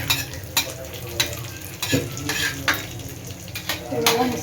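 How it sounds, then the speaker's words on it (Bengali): Peanuts sizzle steadily in a hot pan while a utensil stirs them, scraping the pan in regular strokes roughly every half second, close and clear. "আমি বাদামটা প্রথমে দিয়ে একটু ভাজা হয়ে যাবে"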